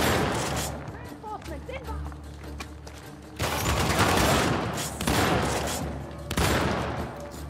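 Bursts of gunfire from Uncharted: The Lost Legacy ring out in loud, repeated volleys, with a person talking over the shooting.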